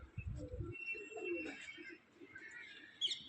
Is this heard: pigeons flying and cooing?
yes